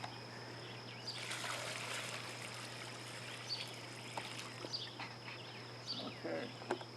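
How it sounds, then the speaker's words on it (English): Water is poured from a container onto a newly planted rose in garden soil, a steady soft splashing trickle lasting several seconds, fairly quiet, with faint birdsong and a steady hum behind. "water it down real good."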